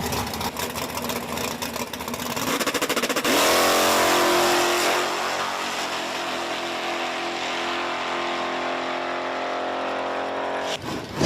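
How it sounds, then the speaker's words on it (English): A Ford Mustang makes a solo bye run in the right lane of a drag strip at Virginia Motorsports Park. The engine roars loudly at launch and stays at a sustained full-throttle howl for several seconds, then fades as the car pulls away. "Looks like we got a buy run here for John Engelman in this right lane in the Mustang."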